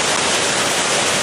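Dense, steady rush of water from a remote, untouched twin waterfall in the jungle, heard close and loud as a continuous broadband roar with no other sounds.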